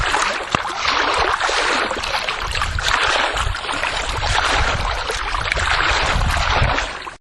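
Water in a backyard in summer, a steady rushing, splashing wash that holds at an even level for several seconds before cutting off abruptly, close and fairly loud with no voices.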